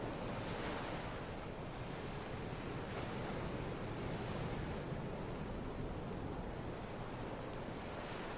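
Sea waves roll and wash in a steady, unbroken rush of surf, with a windy hiss over the water and no voices throughout.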